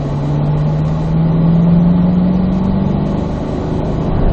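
A Corvette Z06 engine accelerates on a racetrack, a loud, steady engine drone with a rising pitch through the middle, sustained close up throughout.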